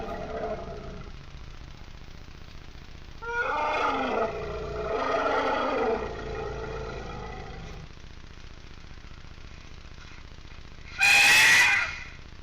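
An angry, frustrated elephant roars in a tantrum, with two loud, rough bursts in the middle and a sharp, loud trumpeting blast near the end, all over steady background rumble.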